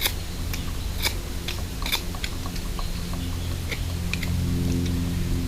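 A knife carving and chamfering a piece of wood outdoors for an improvised bushcraft emergency shelter, with several crisp clicking cuts at irregular intervals over a low steady background hum.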